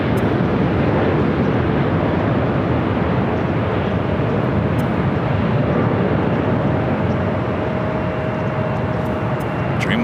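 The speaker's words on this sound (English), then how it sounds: "Dreamliner rolling down at 24 left." A Boeing 787 Dreamliner takes off on runway 24 left at Los Angeles airport, its loud, sustained engine roar filling the whole stretch with a broad, continuous rumble and no talking.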